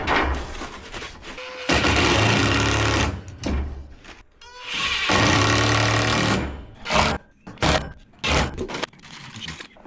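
A power driver sinks screws into a hog-wire deck railing at an old cabin, in loud, close whirring bursts of a few seconds each, followed by shorter clipped spurts and brief pauses.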